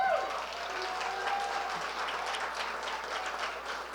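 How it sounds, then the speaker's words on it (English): A crowd at the kickoff of the World Snow Sculpting Championship in Stillwater, Minnesota gives a modest round of applause: steady, fairly soft clapping throughout, with a faint murmur beneath. "give her a round of applause"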